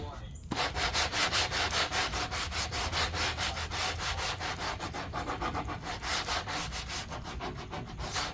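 Steady back-and-forth sanding of wood with worn-out sandpaper, a rhythmic rasping scrub of regular quick strokes, close and loud, running continuously with no talking.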